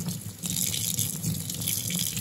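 Running water from a kitchen tap pours steadily over an indoor grill plate from a Philips Smoke-Less Indoor Grill as it is washed with a washcloth and dish soap, a continuous close splashing wash with no talk.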